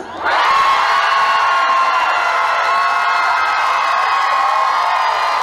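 A large outdoor festival crowd shouts and cheers together in a loud, sustained roar during a practice cheer for a singer's set at the Chungju Dive Festival, holding steady for several seconds with no talk over it.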